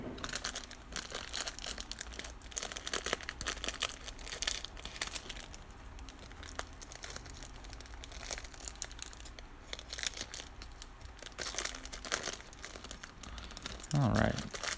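Plastic wrappers on trading card packs crinkle and crackle almost continuously up close, with bursts of rustling and a sharper tearing sound near the end, under occasional talk.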